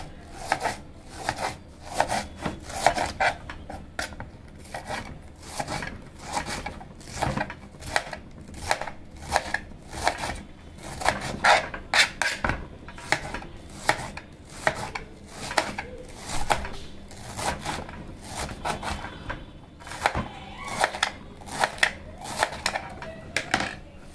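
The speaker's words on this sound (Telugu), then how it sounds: "ఇలా ఇప్పుడు క్యాబేజీ తరుక్కునే విధానం చూడండి" Knife chopping cabbage into thin strips on a board, a fast, steady run of crisp close cuts with short pauses, nearly continuous throughout.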